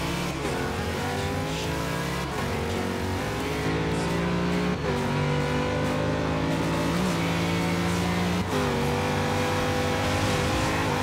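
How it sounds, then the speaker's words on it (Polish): A racing car engine in Forza Horizon revs hard and climbs through the gears, with sharp pitch drops at each shift, loud and continuous with no talking. "Ale ten samochód brzmi nieziemsko teraz."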